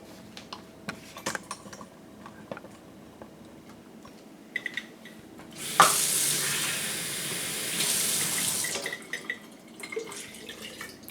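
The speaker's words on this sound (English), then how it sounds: "To this half, let's go to our water and add water to it." Tap water is poured into a jar of sourdough starter made with all-purpose flour: a steady rushing pour of about three seconds, close and moderately loud, framed by faint clinks and handling noises before and after.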